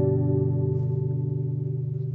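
A classical study guitar with a freshly reconstructed headstock rings out in steady sustained notes, its tone washed in reverb and effects, played alone without talk.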